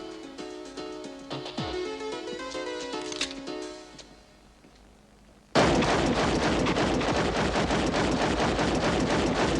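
A feature film scene excerpted in a 1992 film review programme: after a musical passage, a loud, rapid volley of gunshots fires continuously to the end.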